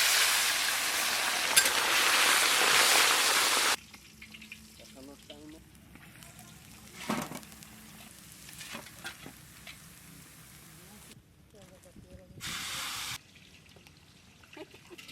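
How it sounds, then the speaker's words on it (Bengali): Fish frying in hot mustard-style oil in a wok for a village-style meal: a loud, dense sizzle dominates the first few seconds, then drops to quieter crackling with utensil clinks, briefly flaring again near the end. "আমরা এখন মাছটা ভেজে নিই।"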